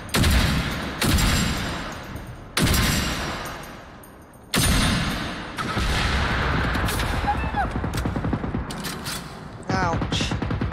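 Firefight in the open-world shooter Generation Zero, heavy gunshots and booming bursts arriving in separated volleys, then continuous rapid fire, loud and close with some reverberant tails.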